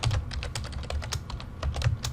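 A run of quick keystrokes clatters on a computer keyboard during an Excel session, near and steady, with no voices.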